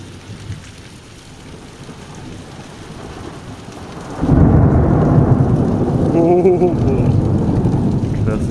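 A thunderstorm breaks over a hiker on the Camino de Santiago's French Way near Melide, with steady rain and a sudden deep rumble of thunder that swells loudly and rolls on. Someone speaks briefly over it.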